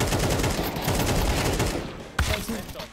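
A dense burst of rapid gunfire in Counter-Strike 2 fills the clip, loud and continuous, with one sharper shot standing out near the end as it tails off.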